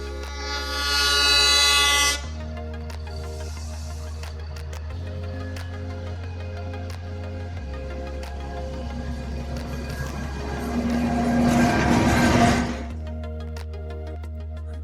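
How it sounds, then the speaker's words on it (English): Ooty toy train in the hills, with a loud horn blast at the start, a steady low mechanical drone of the running train and another horn or hiss burst near the end. "Ooty Toy Train is an integral part of every Ooty tour."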